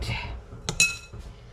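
A biscuit dish clinks as it slides back into a kitchen oven, two short sharp glassy chinks close together, with lighter knocks around them.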